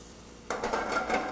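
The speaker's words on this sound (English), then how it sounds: "Add a little olive oil to the pan. I'm going to start off with my bacon." Chopped bacon hits olive oil in a pan at about half a second, then fries with a steady, close crackling sizzle and a few light clinks of a utensil against the pan.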